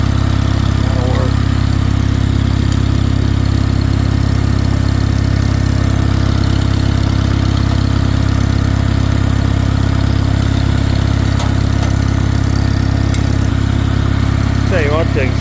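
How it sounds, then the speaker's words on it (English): The engine of a newly repaired tractor runs steadily at idle up close, a loud, even low rumble that holds throughout, with brief voices heard over it. "Tell you one thing, the tractor sounded pretty good."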